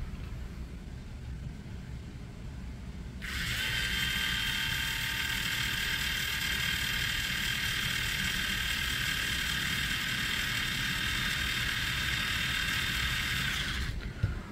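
An Ingco cordless electric screwdriver spins freely during a speed test, a steady whirring motor with a high whine from about three seconds to fourteen seconds, loud and unbroken, starting and stopping abruptly.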